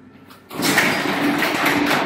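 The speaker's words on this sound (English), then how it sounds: "You see the door is going down?" A residential garage door sliding downward as it closes, starting after a quiet moment with a steady rolling, rattling mechanical noise that continues at moderate volume.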